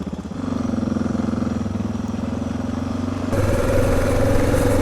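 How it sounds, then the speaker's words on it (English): Honda XR650L or Suzuki DR650 dual-sport motorcycle riding off-road on wet ground, its single-cylinder engine thumping steadily and loud up close, rising in pitch as the throttle opens near the end. "Nothing like riding a bike you're not familiar with off-road."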